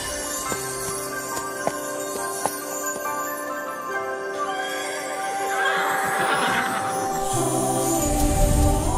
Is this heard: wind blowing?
no